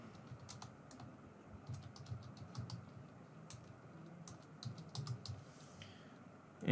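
Light typing on a computer keyboard comes in short bursts of quick, soft key taps with pauses between them, fairly faint over a low background hum, with no talk.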